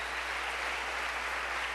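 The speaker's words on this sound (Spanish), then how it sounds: "Dele ese aplauso fuerte al Señor" Church congregation applauding during a Spanish-language sermon, a steady dense wash of clapping throughout, fairly faint and distant, with no voices standing out.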